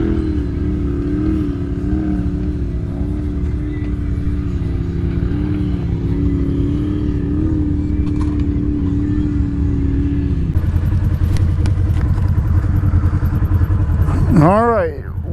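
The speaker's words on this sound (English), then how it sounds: "Spinning, but this sounds like an axle." Off-road vehicle at an OHV park with its wheels spinning and a droning axle noise, a loud steady engine hum throughout that shifts in pitch near the end, with people talking over it.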